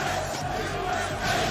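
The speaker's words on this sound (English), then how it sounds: "the USA chants from the crowd" A packed crowd at a Tekken tournament chants USA in a dense, continuous roar of voices, loud and steady throughout.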